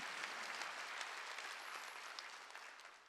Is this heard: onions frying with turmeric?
no